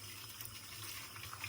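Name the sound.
tap water washing raw chicken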